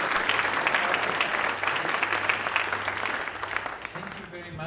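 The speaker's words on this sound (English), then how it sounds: "Give them a round of applause" Applause for panelists at the IAF Global Space Conference on Climate Change. A steady wash of hand clapping from the audience continues throughout and tapers slightly toward the end.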